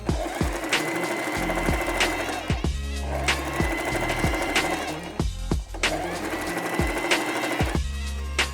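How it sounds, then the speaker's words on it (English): Sewing machine running a straight stitch along a bag handle, a close steady rapid stitching rattle broken by brief pauses and a few soft thumps. "What I'm going to do is to run another straight stitch on the other side of the handle."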